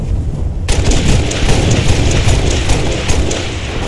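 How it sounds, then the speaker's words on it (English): Video game combat with grenade launcher explosions and gunfire: after a brief quieter start, a dense, loud barrage of shots and booms erupts and continues without pause. "you just got him with a grenade launcher"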